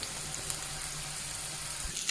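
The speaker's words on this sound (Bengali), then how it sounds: "মাঝখানে মাছ আর হচ্ছে বেগুনটা ভাজতে দিয়ে দিলাম।" Steady oil sizzle from fish and eggplant frying in a pan, a constant crackling hiss with low bubbling underneath, close by and unbroken.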